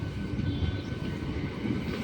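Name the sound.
Hyderabad local train arriving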